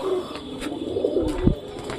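Pigeons cooing close by, a few low throaty coos in a short burst against quiet background.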